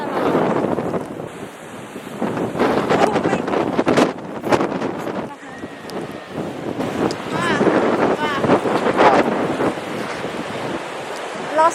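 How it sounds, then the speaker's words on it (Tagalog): Strong blizzard wind roars and buffets the microphone in steady loud gusts outdoors in deep snow, with people talking intermittently underneath. "Lakas ng hangin."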